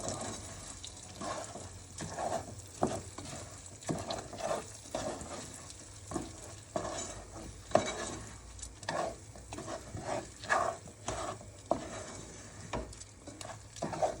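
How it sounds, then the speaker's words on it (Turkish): Rice grains toasted and stirred with salt in a pot for Turkish pilaf, a steady soft sizzle with irregular scraping and stirring strokes throughout, no voices. "pirinçleri çok iyi kavurmamız lazım ve kavururken tuz atmamız lazım"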